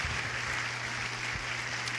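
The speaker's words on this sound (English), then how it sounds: "Let's give her a round of applause." Audience applause at a high school graduation ceremony, a steady wash of clapping that holds evenly for the full two seconds, with a low hum underneath.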